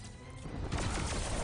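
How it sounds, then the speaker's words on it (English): Round-win fireworks effect from the fighting game Injustice 2 during a tournament match: a short, loud burst of crackling pops and bangs that swells partway through and keeps sputtering to the end. "After the round win, the little fireworks."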